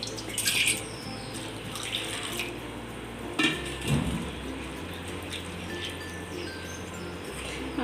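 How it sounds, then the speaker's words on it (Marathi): Sago pearls being washed in water, sloshing and swirling with splashes and a few knocks of the bowl, close and moderately loud with no talk. "तो साबुदाणा मी दोन पाण्याने धुवून घेणार आहे"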